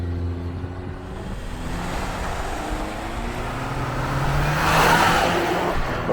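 A 2024 Toyota Tacoma on taller, wider, heavier BFG KO3 tires accelerates hard from a standstill, engine note rising steadily through the run in two-wheel drive sport mode, loud and continuous with tire and road roar beneath.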